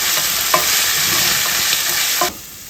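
Chicken gizzards sautéing in a pan for adobo give a loud, steady sizzle with a few stirring scrapes, then drop off sharply near the end.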